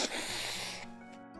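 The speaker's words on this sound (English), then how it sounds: "I'm going to blow my nose." A person blows their nose in one loud, close, broadband honking burst lasting under a second, followed by a quieter tail of snuffling and low background hum.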